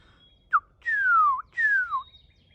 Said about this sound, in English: And then off in the distance, we were hearing a cardinal there.